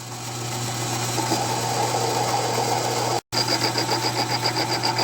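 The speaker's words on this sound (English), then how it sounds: "then we'll start turning down the shank" Lathe turning down the shank of a bolt, taking light cuts, a steady motor hum with whirring and a faint rhythmic pulsing, continuous and close, interrupted once by a brief dropout.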